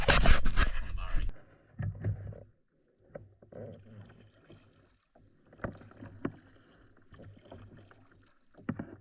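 Kayak paddling on the Murray River, soft intermittent splashes and drips from paddle strokes spaced irregularly, fairly quiet and close, after a brief burst of wind noise at the start.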